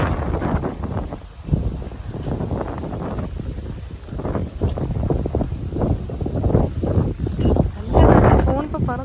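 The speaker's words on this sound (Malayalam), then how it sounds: "നല്ല കാറ്റ്. ഫോൺ ഇപ്പൊ പറന്നു പോകും." Gusty wind blows hard by a lake in Germany, roaring into the microphone throughout while a person talks over it.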